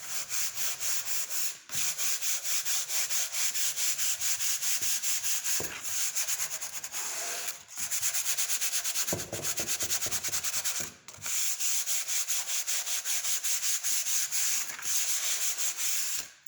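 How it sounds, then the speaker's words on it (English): Sandpaper rubbing across the top of a painted wooden sign, a steady loud scratchy back-and-forth stroking with a few brief pauses between passes, with no talking. "I want you to sand the top of your sign"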